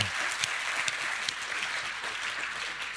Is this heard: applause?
yes